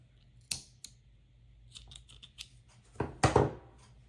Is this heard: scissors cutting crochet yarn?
yes